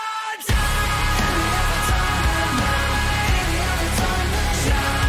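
Loud, dense metalcore music with distorted guitars and pounding drums starts abruptly after a brief silence and plays continuously.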